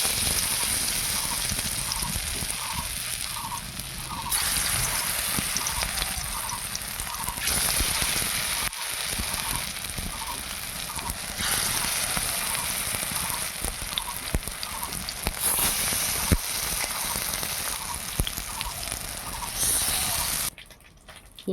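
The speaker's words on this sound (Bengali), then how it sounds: "হিঞ্চে বড়া করব। তেল দিয়ে দিচ্ছি কড়াইতে।" Hinche greens fritters frying in oil in a wok, a steady, dense sizzle and crackle that runs almost unbroken at close range, cutting off abruptly near the end.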